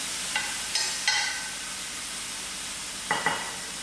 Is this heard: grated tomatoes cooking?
yes